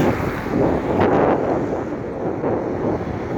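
Steady wind buffeting the microphone, a loud continuous rumble with no clear breaks, and no voices.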